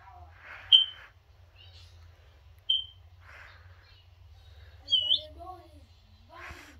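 Several sharp, high bird calls ring out one at a time with pauses between, over a quiet low background hum.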